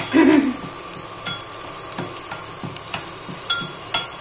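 Masoor lentils stir-roasted dry in a pan until brown, giving a soft steady sizzle with a scrape of the spoon near the start and faint, regular stirring scrapes that repeat throughout.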